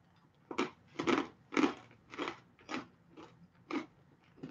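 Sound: crunching cayenne-dusted snack

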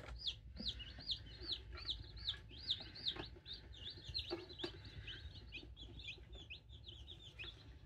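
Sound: newly hatched chicks peeping in an incubator

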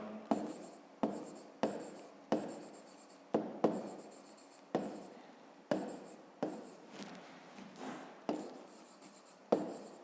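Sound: writing a math solution by hand

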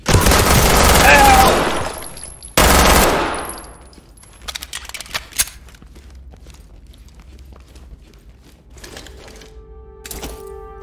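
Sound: M14 rifle gunfire in a video game

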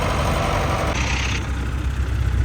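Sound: old vintage DI tractor engine running

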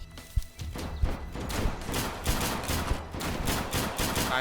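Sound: gunfire in the video game Deadside

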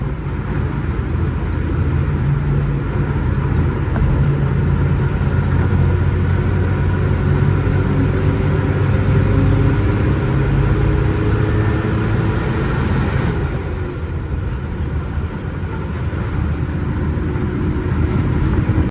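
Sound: engine of Ashok Leyland non-AC bus running

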